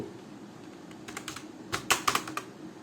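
Someone types on a computer keyboard while entering a payment amount into retail POS and accounting software, a few quiet keystrokes followed by a quicker, louder burst of clicks at close range.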